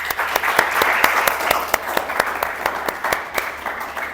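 Lively applause for school students at a hosting school event, a dense wash of clapping with distinct sharp individual claps standing out, moderately loud and close, with faint talk mixed in.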